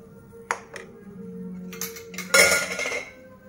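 A metal spoon scrapes and clinks against a pan while ghee is stirred into a mixture, a few sharp taps early and then a louder burst of clattering near the end.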